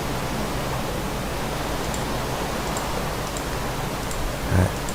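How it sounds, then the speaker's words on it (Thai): Rain falls steadily in the Minecraft video game, a constant, even wash of rainfall with no breaks, and a single low thump near the end. "ฝนตกแล้ว บ้านเมืองก็จะสงบสุขนะฮะ"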